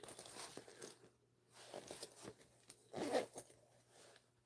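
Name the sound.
zipper on a pocket being opened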